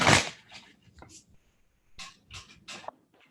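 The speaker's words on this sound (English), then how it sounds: "I'll give them one more shuffle." A deck of tarot cards getting one more quick shuffle: a handful of short, sharp papery riffle bursts with brief gaps between them, close to the listener and moderately loud, with no clear talking.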